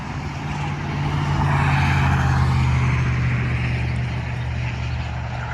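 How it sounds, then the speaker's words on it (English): Road traffic rushes past a rest stop in Hale County, a loud, steady broadband roar with a low engine drone swelling and easing as vehicles go by. "watch the traffic go by, and the sound of it is kind of soothing to me."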